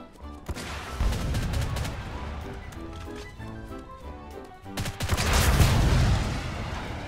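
Gunfire in the video game Plastic Warfare, with bursts of sharp shots and rapid volleys that swell into a dense, loud barrage in the later half.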